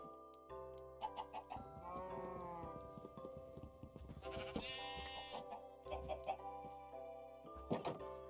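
Minecraft-style video game animals sound in a busy layered mix, with chicken clucks alongside bleating sheep and other animal calls, frequent overlapping bursts at moderate level throughout, no speech.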